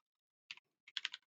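A few soft keyboard taps, one short press then a brief cluster of four or five keystrokes, close and quiet against silence, as a size value is typed into a game editor.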